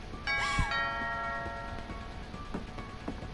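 A two-tone ding-dong doorbell rings once, clear and resonant, in a dark house scene of the video game What Remains of Edith Finch, and the tone fades slowly into quiet.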